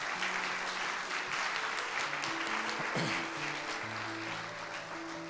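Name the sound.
applause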